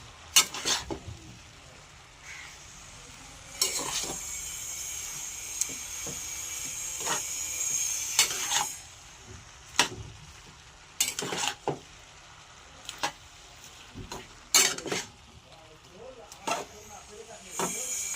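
Softened spinach mixed with prawns in a pan: intermittent scraping and stirring strokes with a soft hiss of frying between them, close and fairly quiet.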